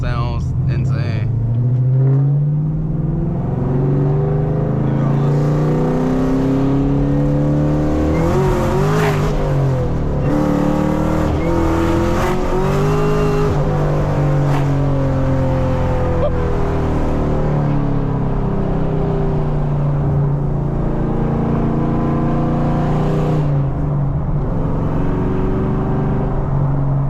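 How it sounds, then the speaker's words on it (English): A stage 3 cammed Camaro ZL1 with a manual gearbox and a slipping clutch, driven on the road: a loud, steady, heavy engine rumble that carries through the whole stretch, with shifts in pitch as the throttle changes. "the car sounds insane."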